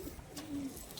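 A domestic pigeon kept as a fancy bird gives a soft, low coo against a noisy background.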